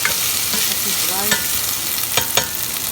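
Garlic frying and being stirred in a pan, a steady close sizzle with scraping stirs and a few sharp utensil clicks near the end.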